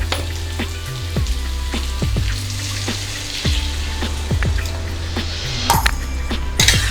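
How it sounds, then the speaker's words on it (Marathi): Water poured from a glass into a pan of frying brinjal and potato curry for Maharashtrian rassa bhaji, giving a steady sizzle and liquid splashing with repeated clinks and scrapes throughout, close and fairly loud. "आता आपण एक ग्लास पाणी ॲड करूया"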